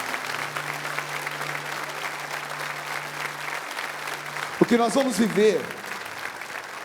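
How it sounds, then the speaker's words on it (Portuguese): Congregation applauding one another during a church service sermon, a steady crowd clapping that holds for several seconds before a voice speaks over it near the end. "Aplauda a pessoa que está do seu lado."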